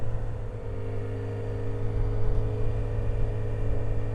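Docklands Light Railway train ride, a steady low rumble and hum of the carriage in motion with a faint rising drone, continuous and close, no voices.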